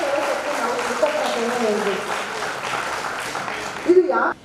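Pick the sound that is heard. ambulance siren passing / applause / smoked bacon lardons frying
applause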